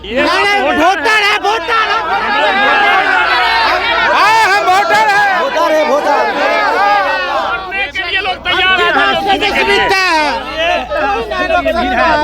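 Dense, loud crowd chatter and hubbub fill a political rally in Bihar, many voices overlapping continuously with shouts rising throughout, close and steady with no pause.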